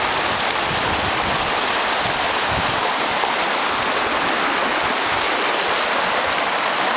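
The Río Higuerón in Frigiliana, Málaga flows in a steady, loud wash of rushing water, a dense continuous roar heard close by without any talking.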